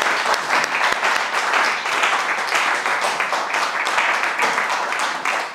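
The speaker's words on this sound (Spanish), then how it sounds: "Pues un fuerte aplauso para Eduardo" A roomful of people applauds loudly at a Spanish book presentation, with continuous close clapping and a few sharper individual claps standing out through roughly five and a half seconds.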